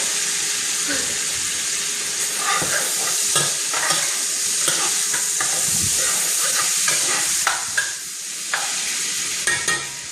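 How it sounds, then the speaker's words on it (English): Steady crackling sizzle of bacon frying in a pan, with occasional pops and scraping stirs, close by and continuous throughout. "As your bacon is frying"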